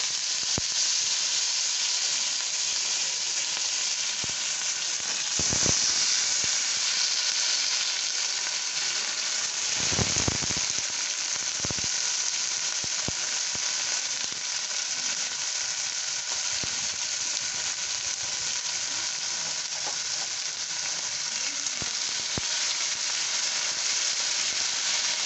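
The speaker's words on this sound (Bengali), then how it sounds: "আমি আলুটা দিয়ে দিচ্ছি তেল দিয়ে দিয়েছি, সাদা তেল।" Potatoes frying in white cooking oil, a loud continuous hiss and sizzle with occasional stirring knocks, no voices.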